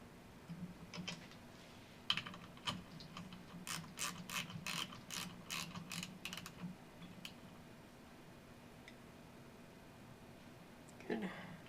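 A 10mm socket wrench ratchets during repair work on a BC3300 unit, giving a quick run of crisp, evenly spaced clicks at close range, with scattered handling knocks before and after in an otherwise quiet room.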